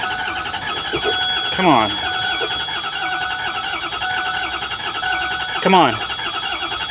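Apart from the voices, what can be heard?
Ford E350 6.0 diesel bus engine cranking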